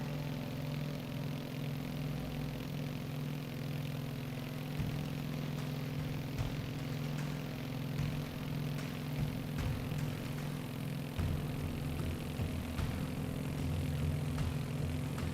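A Beech 18 twin-engine propeller aircraft cruises in flight at about 180 knots, its steady, loud engine drone and propeller hum filling the cabin without a break.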